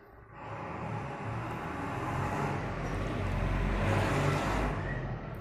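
A heavy vehicle on a road rumbles past steadily for several seconds, its engine noise swelling gently and then fading, with no talk over it.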